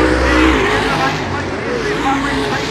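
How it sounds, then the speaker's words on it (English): A late model race car at a speedway runs with a rough, faltering engine, a loud, continuous roar close by under crowd noise and voices. "As you can hear, Freddie Kinsella's car starting to break down."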